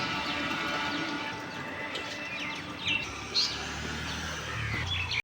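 Outdoors, a few faint birds give short, scattered chirps over a low background hum, with a small cluster near the middle and one more at the end.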